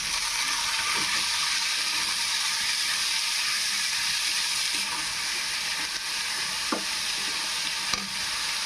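Onions fry in hot oil in a pan for a spinach egg curry, giving a loud, continuous sizzle with a few soft stirring knocks near the end.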